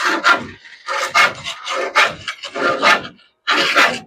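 Rough wooden scraping as chicken droppings are scraped off a nesting box, in four or five close, rasping bursts with short pauses between them.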